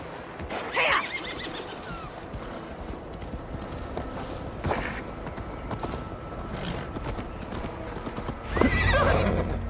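Horse in Assassin's Creed Valhalla galloping with steady clip-clop hoofbeats, breaking into loud, close whinnies near the start, middle and end, over faint game ambience.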